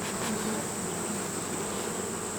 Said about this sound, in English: And I think there's a couple robber bees that could smell the syrup but couldn't get to it up here at the top.